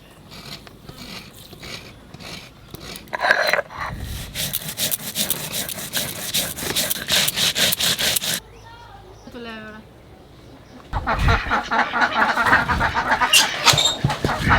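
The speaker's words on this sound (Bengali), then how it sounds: "এবারে এই ডাবের জলটাতে বেটে নেব।" White and black mustard seed, poppy seed, coconut and green chilli grind in tender coconut water, giving a loud, steady mechanical whirring and rattling. It stops briefly while a voice speaks, then resumes just as loud.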